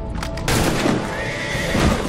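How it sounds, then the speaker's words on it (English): A loud, close horse whinny in the video game Assassin's Creed III, a shrill wavering neigh rising over a noisy background. "We shot the horse."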